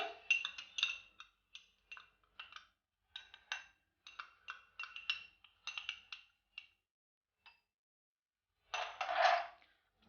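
A spoon mixes cocoa powder and custard powder in a bowl, producing a quick series of light metallic clinks and taps in an irregular rhythm, close and clear, ending with a longer scraping swirl.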